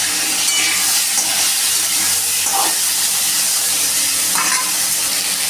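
Potatoes and pointed gourd fry in oil with panch phoron and dried red chilies, giving a loud, steady, close hiss and sizzle with a few faint clinks and stirs.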